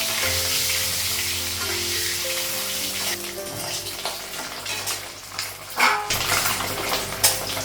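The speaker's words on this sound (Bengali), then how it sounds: "কড়াইয়ের মধ্যে তেল লাগাবো, ডিমগুলো লাগাবো।" Eggs sizzle in oil in a wok, a continuous crackling fry with occasional stirring and clinks of a utensil against the pan, close and fairly loud.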